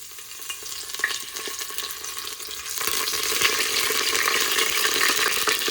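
Whole spices and curry leaves sizzle in hot oil for a goat curry tempering, a crackling hiss that grows louder and denser midway, with light stirring clicks and no voices.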